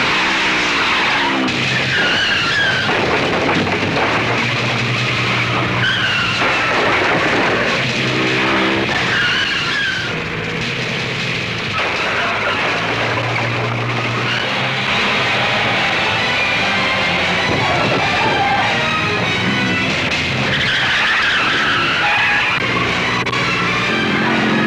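Cars race in a chase, with engines roaring and tires skidding and squealing almost the whole time in a dense, loud mix.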